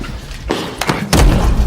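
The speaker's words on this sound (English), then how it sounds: "Slams the guy's head on it." A man's head is slammed onto a table in a film scene, giving a heavy thud followed by a louder impact with rumbling body, close and forceful.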